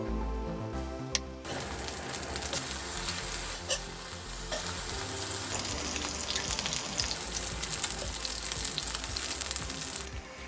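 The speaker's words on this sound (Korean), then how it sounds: "육전은 중약불에 하시는 거예요 센 불에 하시면 바로 탑니다" Battered beef yukjeon pancakes sizzling steadily in generous cooking oil in a pan over medium-low heat, a continuous close crackle with occasional utensil clinks and no talk.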